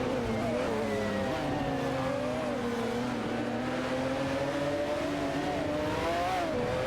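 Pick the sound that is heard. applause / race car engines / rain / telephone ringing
race car engines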